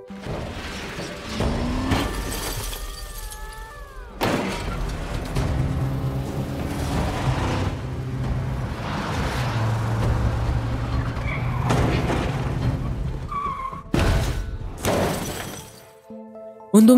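A police car is rammed aside during a film car chase: roaring engines and tire noise build into several loud crunching, shattering impacts, with the biggest crashes around the middle and near the end.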